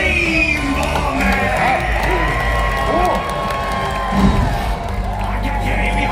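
A big crowd cheers, whoops and shouts at a Disney park show, a loud, continuous roar lasting several seconds with voices and music-like tones mixed in.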